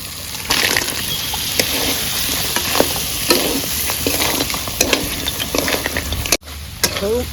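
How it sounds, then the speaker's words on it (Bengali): Already fried crabs go into hot oil for a Bengali crab curry. The oil sizzles loudly and steadily up close, with stirring and scraping in the pan throughout and a brief break near the end. "তেলটা ছেড়ে দিয়েছে, এবার আমি ভেজে রাখা কাঁকড়াগুলো দিয়ে দিচ্ছি।"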